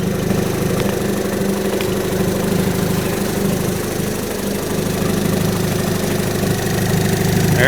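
A 30 HP Evinrude E-Tec outboard motor idles continuously up close, a steady throbbing drone with a faint knocking texture and no voices over it.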